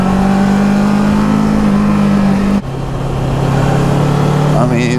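Kawasaki Versys 650 motorcycle engine revving and pulling hard on a road ride, a steady loud drone that drops in pitch at a gear change midway, then builds again under wind rush.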